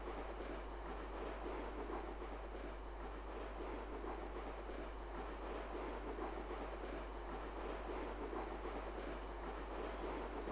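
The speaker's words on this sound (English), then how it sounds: "Just this short train ride." A train running in the railway simulation game A-Train 9 makes a steady low rumble with faint clickety-clack that holds constant throughout, and a few high chirps break in now and then.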